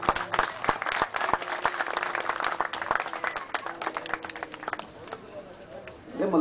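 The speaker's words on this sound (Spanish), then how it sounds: "Démosle nuevamente un aplauso" Audience applause fills a municipal anniversary ceremony, steady crowd clapping with sharp individual claps standing out, tapering slightly toward the end as a voice begins to speak.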